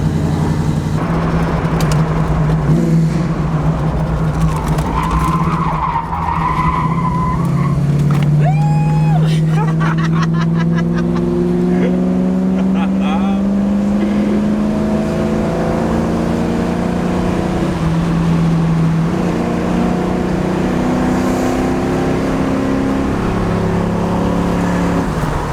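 A 1981 Chevrolet Camaro with a 350 crate engine roars continuously and loudly through a tire-smoking burnout, the pitch rising and falling as the engine revs, with voices faintly underneath.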